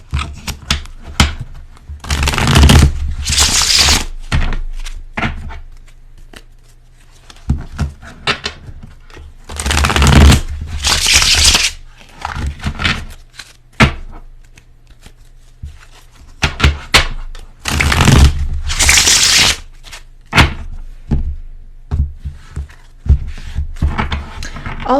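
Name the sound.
shuffling golden foil tarot cards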